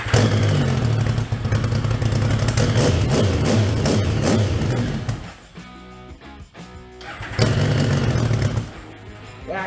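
The engine of a methanol-powered Yamaha Banshee 521 Supercub cranks over quickly on a jumper pack. The rapid, even churning comes loud and close, pauses briefly, then resumes.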